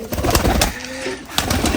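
Pigeons coo at a large pigeon farm, low throaty calls rising through a busy background of fluttering and rustling close to the microphone.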